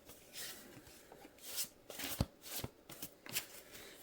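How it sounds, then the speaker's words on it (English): Oracle cards shuffled by hand, a run of soft papery riffles and flicks that come in irregular bursts over about four seconds, close and fairly quiet, with no talking. "Let's see if I can try to shuffle them."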